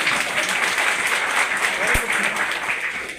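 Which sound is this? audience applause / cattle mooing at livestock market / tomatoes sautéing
audience applause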